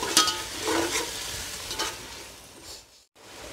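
Chicken biryani with ginger-garlic paste is stirred in a hot pan, with scraping stirring strokes over a sizzling fry, close and moderately loud for a few seconds and briefly pausing near the end.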